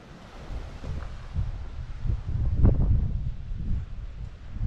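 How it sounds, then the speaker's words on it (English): Gentle sea waves wash in with a soft, low rumble at Magaluf, Mallorca, mixed with wind buffeting the microphone; no voices. "There are a few little waves"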